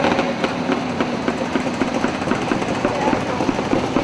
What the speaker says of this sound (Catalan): és un Biscúter que té motor arranc